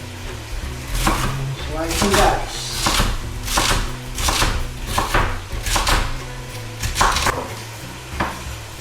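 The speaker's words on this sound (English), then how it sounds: "And slice and dice." Green peppers are chopped with a knife on a cutting board in a kitchen. Repeated sharp, close knocks come in an uneven rhythm over a low background hum.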